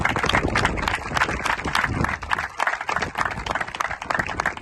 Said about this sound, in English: Let's hear, again, a round of applause for them.